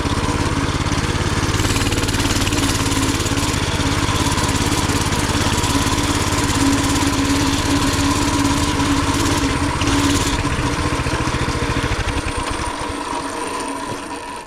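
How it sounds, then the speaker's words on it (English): Small mini bike engine buzzing steadily while being ridden outdoors, a loud continuous high-revving drone that holds for the whole stretch and begins to fade near the end. "I can't tell you how much I love having this mini bike back."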